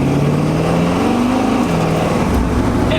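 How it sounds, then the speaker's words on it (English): A truck fitted with an Edelbrock AVS2 carburetor accelerates hard on a closed course, its engine note climbing steadily and loudly from a low rumble with no talk over it. "I just stabbed the gas to see what it would do and didn't spin them."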